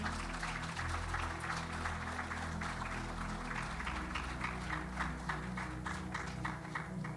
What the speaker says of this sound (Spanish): Denle un aplauso a Jesús fuerte.